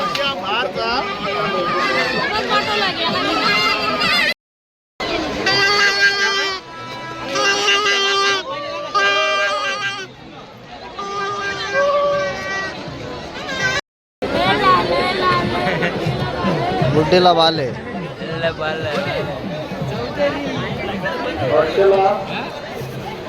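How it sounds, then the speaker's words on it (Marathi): Dense crowd chatter fills the night at the Mhasa Yatra village fair, a constant loud babble of many voices close around, briefly cut out twice, with nearby people talking over it. "गर्दी एवढी आहे काही दाखवायला नाही भेटत."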